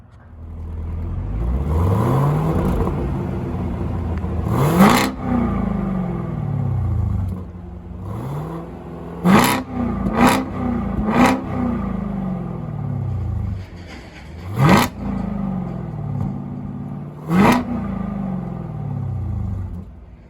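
A Chevrolet Camaro ZL1 1LE with an LT1 V8 revs hard from the rear exhaust, loud repeated rising blips and roars with sharp crackles between, settling to a deep rumbling idle in the pauses.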